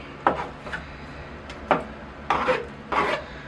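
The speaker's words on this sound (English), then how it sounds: "So I'm going to comb out the roots, kind of flattening them out" A comb rasps through the washed, exposed roots of a ficus bonsai during root pruning, four or five short scratchy strokes spaced irregularly, close and fairly quiet with no talk.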